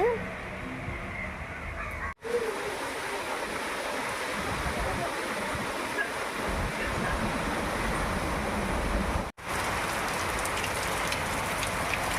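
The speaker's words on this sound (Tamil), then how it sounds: "செம்ம மழை" Heavy rain pours steadily in Chennai, a dense continuous hiss of drops drumming on surfaces close by, unbroken apart from two brief cuts.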